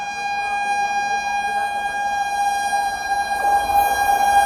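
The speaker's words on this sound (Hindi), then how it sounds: "तो भाई अपनी ट्रेन को यहाँ एक और ट्रेन ओवरटेक करने आ रही है, देखते कौन सी है भाई, काफ़ी रफ्तार में आ रही है।" The Ranchi Garib Rath Express overtakes at speed alongside a moving Amrit Bharat Express, a steady sustained horn-like tone held over rolling rumble that grows louder toward the end.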